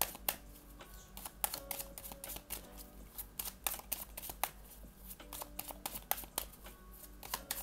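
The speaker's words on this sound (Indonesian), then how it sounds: "Sebentar aku harus ngambil kartu lagi nih." Tarot cards being shuffled and drawn by hand, heard as quiet, rapid, irregular papery flicks and clicks that repeat steadily throughout at a faint, close level.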